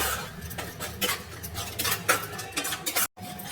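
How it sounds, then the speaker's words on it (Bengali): A spoon scrapes and clinks in a pot while chili powder and water are stirred into a cauliflower-potato curry, busy close-up stirring strokes with a brief cut near the end. "এর মধ্যে আমি অল্প পরিমাণে দিয়ে দিলাম জলটা দিয়ে আমি নাড়াচাড়া করবো এইভাবে।"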